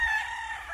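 A short burst of gamecock crowing on a game farm, a tonal strained call heard alone at moderate distance.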